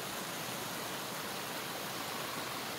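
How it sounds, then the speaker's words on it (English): Waterfall in a food forest garden, a faint, even broadband rush of falling water with no break or other sound. "And you can watch the waterfalls."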